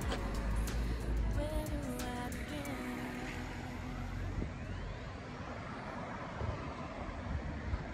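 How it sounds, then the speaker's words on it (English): Aircraft passing overhead outdoors at a remembrance event in Whittlesey, a broad steady engine roar with a slowly sweeping tone, continuous and fairly loud against wind and background noise throughout. "Planes again."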